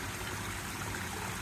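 A stream runs beside a hiking trail on Bull Hill above the Hudson River, giving a steady, close, broadband rush of flowing water that never lets up, with no voices over it.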